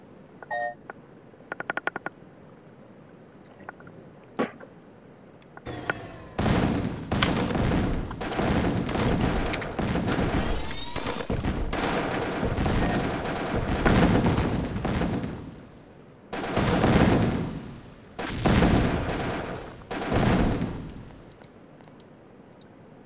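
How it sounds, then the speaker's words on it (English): Rapid bursts of gunfire and blasts from a Tiberian Sun real-time strategy battle, crackling in dense clusters with short lulls between volleys, loud and close throughout. "I'm taking heavy fire."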